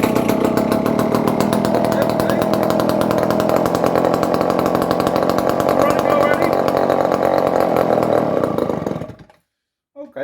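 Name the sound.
Dolmar 118 Super chainsaw running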